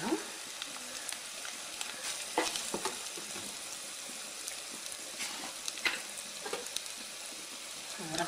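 Small prawns cooking with sorrel leaves, chili powder and salt are stirred in a pan, giving a steady close sizzle of frying broken by scraping spoon strokes and soft clatters, with no voices.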